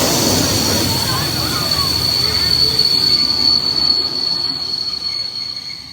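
Loud, sustained metallic screech of steam train wheels squealing on the rails in the Blue Mountains near Sydney, with a high shrill whine and a rumbling rush of rail noise.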